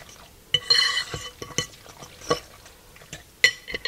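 Ricotta cheese being stirred into a sausage manicotti filling in a bowl, with soft wet mixing sounds and intermittent utensil clinks against the dish, close and fairly quiet.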